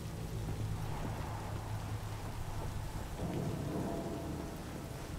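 Steady heavy rain pours down in a Cyberpunk 2077 thunderstorm, with low rolling thunder rumbling beneath a continuous wash of rainfall that swells slightly near the end.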